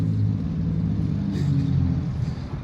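A loud car engine idles and rumbles at a city intersection, a deep steady drone close by that swells slightly midway, with no talking over it.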